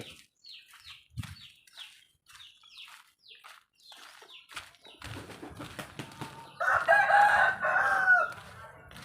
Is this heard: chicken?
yes